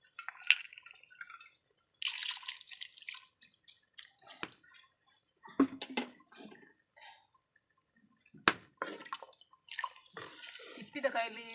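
Water is poured in intermittent splashy trickles and drips while preparing Mangalore-style green masala, with a person talking in between the pours.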